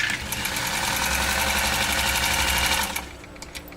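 A 1955 Scottish-made Singer 99K sewing machine stitching through three layers of 14-ounce commercial-grade vinyl, a fast, loud, steady mechanical whir with rapid needle knocking that runs for about three seconds and then stops, leaving faint ticks.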